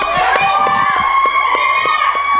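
Wrestling arena crowd cheering and shouting at a women's fatal four-way match, a loud continuous roar with voices and shrill whistles rising above it.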